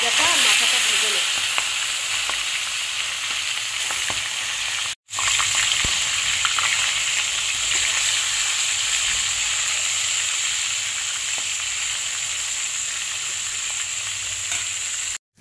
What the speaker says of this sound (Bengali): তেলের মধ্যে প্রথমে আমি লেজাটা আর মাথাটা ভেজে নেব।